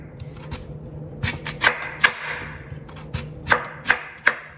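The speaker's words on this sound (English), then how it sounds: "you want to make sure that you cut something like potatoes or sweet potatoes up" A knife chops a large peeled sweet potato on a cutting board in a series of sharp, close thuds at an uneven pace, with soft rubbing between strokes and no talk.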